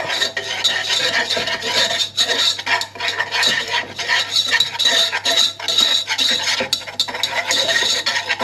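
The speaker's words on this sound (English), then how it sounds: "So it's in with our 50 grams of flour, straight in, and start whisking it up" A whisk scrapes and rattles rapidly against a pan as 50 grams of flour is worked into a paste, a busy, continuous metallic rasping close up, with no voices.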